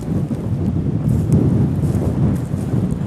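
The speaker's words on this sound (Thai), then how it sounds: "มีแต่ลม" Wind blows at the seashore, a steady low roar buffeting the microphone throughout, with no talking.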